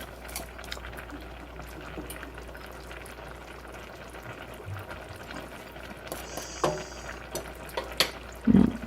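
Pasta sauce bubbling in a pan on the stove gives a steady, soft simmering hiss with small pops, continuous throughout, with a few louder clinks and bumps near the end.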